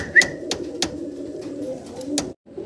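A pair of black lace satinette pigeons coo low and steadily, broken by a few sharp clicks and a brief chirp, with a short silence near the end.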